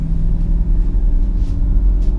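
A sports car's low engine rumble roars steadily and close as it accelerates on launch control, a dense vehicle drone with no pauses.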